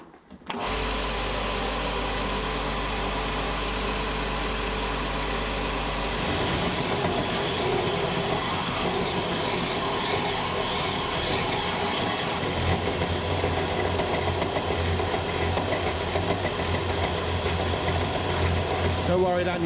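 A power sander grinds against the metal of a Toyota TD04 turbo housing during porting, in a loud, steady, harsh roar that continues unbroken for the whole stretch, its tone shifting slightly partway through.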